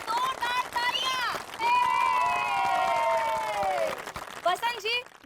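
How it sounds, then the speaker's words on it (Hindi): A colony crowd in a comedy show claps and cheers for Supreet Kaur, with scattered hand claps under loud, sustained whoops and shouting voices that swell in the middle and break into shorter calls near the end. "सुप्रीत कौर जी के लिए जोरदार तालियां"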